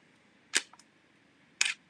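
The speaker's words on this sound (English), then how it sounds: "That's the shutter physically opening and closing to allow light into the sensor." A DSLR camera shutter fires twice at a slow speed of about a second, each cycle a sharp close click with a faint second click just after, set against quiet room tone.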